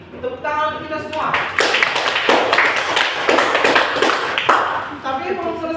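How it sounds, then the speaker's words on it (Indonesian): A classroom group claps together in a burst of applause lasting a few seconds, dense rapid hand claps rising and then tapering, with a teacher's voice before and after. "Tepuk tangan untuk kita semua."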